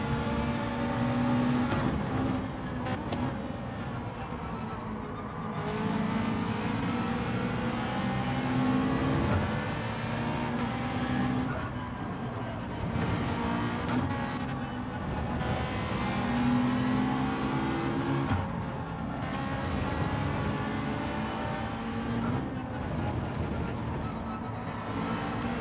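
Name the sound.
race cars starting in Gran Turismo 7 video game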